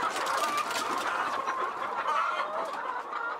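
Chickens on a Ugandan poultry farm housing over 2,000 birds cluck and chatter in a dense, continuous crowd noise, loud and close, with no one talking.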